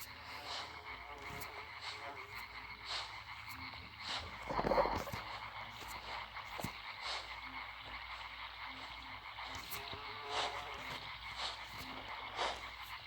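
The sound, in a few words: frogs croaking in a video game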